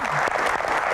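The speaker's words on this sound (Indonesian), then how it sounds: "Tepuk tangan buat malam ini." Studio audience applauding at the close of a Q&A talk show, a brief, dense burst of clapping.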